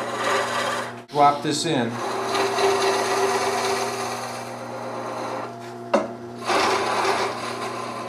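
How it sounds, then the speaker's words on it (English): A skew chisel cuts a bead into a table leg spinning on a wood lathe, giving a steady scraping rasp broken by short pauses. Someone speaks briefly. "I'll cut in and create that little shoulder for the point of the skew."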